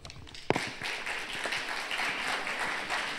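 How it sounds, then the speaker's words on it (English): Applause from an audience at a plenary panel session, a sharp first clap then a dense, steady patter of many hands continuing throughout at moderate volume. "And that is your applause"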